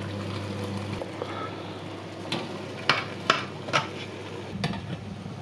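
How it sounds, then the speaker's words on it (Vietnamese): A steaming tray of bánh ít trần, glutinous rice dumplings, goes into a steamer pot over boiling water: a handful of sharp metallic clanks and clinks, loudest midway, over a low steady hum. "Sau khi nước sôi mình cho khay vô hấp."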